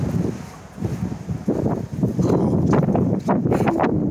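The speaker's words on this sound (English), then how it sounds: "It's too much wind." Strong wind buffets the microphone outdoors in steady low rumbling gusts that swell louder partway through, with rustling texture and no speech.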